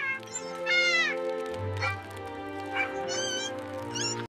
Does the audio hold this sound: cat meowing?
yes